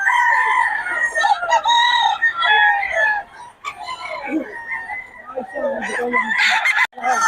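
Pumpkin sweater gamefowl roosters and hens at a market in Bocaue crow and cluck over one another in a busy, close chorus, the crows rising in long, repeated calls.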